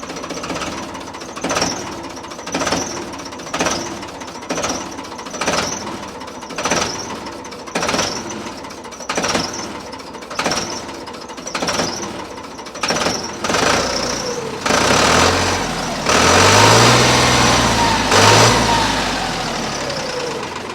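A Farmtrac 60 tractor engine runs with a knocking beat, a regular pulsing thud repeating steadily at close range, then revving harder and louder near the end.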